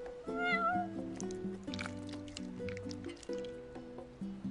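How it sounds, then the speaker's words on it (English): Cat meowing in Final Fantasy XV, a single short meow near the start over soft game music, with light dripping and squishy effects. "You're one spoiled cat."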